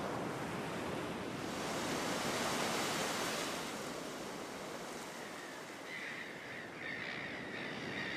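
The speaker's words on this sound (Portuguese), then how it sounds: "as ondas quebram bem perto da praia e cavam barrancos característicos" Waves break close to the beach on a wild southern Brazilian coast near a lighthouse, a continuous loud roaring surf wash that swells and recedes, with wind buffeting the microphone and no voices.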